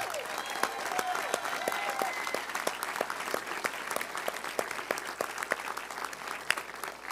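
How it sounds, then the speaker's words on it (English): Steady applause from a crowd at a speech fills the room, a sustained patter of clapping at moderate loudness without any talking. "Let's thank John Gregg"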